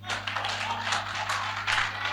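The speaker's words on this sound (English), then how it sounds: "Let's clap for Queen." An audience claps together at a question-and-answer session, a steady patter of many hands held at even loudness over a low electrical hum, with no talk.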